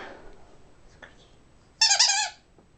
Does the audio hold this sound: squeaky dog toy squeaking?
yes